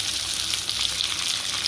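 Chopped onions fry in a pan for a spicy vada curry, giving a dense, steady hiss and sizzle close up with no talk.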